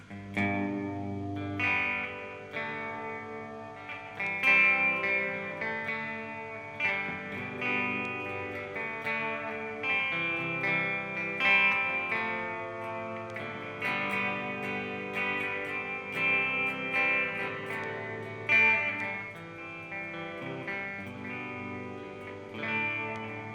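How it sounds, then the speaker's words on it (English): An electric guitar through an EHX Oceans 11 reverb pedal on auto infinite reverb plays sustained notes that swell and smear into a long, washing tail, the chords blending into a continuous shimmering drone. "Auto infinite reverb."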